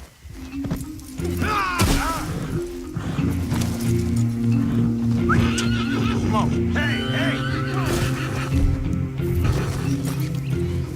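A horse in the Western video game Red Dead Redemption 2 whinnies and neighs loudly amid hoof clatter and thuds, over a steady game soundscape, while someone shouts at it.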